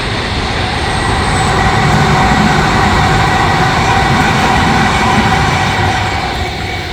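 A train passing close by a roadside camping spot, a loud, continuous roar of wheels and rail noise with faint metallic squeal, holding steady throughout before easing slightly at the end.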